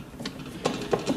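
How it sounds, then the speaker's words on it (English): A screwdriver drives screws back into a 3D vacuum sublimation press, giving a few quick close ratcheting clicks and scrapes in a short irregular sequence, moderately loud with no voices. "the 4 screws back to the original position using a screwdriver."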